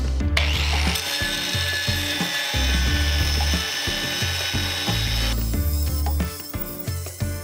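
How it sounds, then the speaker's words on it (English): A power saw fitted with a masonry blade grinds loudly through fire brick, its harsh buzzing cut rising and dropping in repeated strokes as the blade bites and eases off the brick. "And I'm using a masonry blade."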